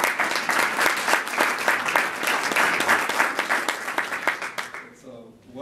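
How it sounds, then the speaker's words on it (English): Audience applause at a congressional briefing on ISIS and human trafficking: dense, steady clapping from a sizable room for about five seconds, then tapering off with a voice beginning to speak at the end. "let's give a round of applause."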